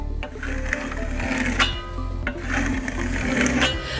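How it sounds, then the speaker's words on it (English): A trowel burnishes a Grassello lime plaster finish on a wall in close, rhythmic rubbing strokes, each scraping pass rising and falling in repeated sweeps. "as you can see, I'm already starting to burnish it"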